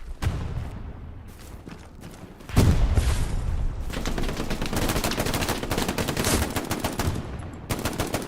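Machine gun fire in the Hell Let Loose video game, a short shot then long rapid sustained bursts of loud gunfire with a brief pause near the end.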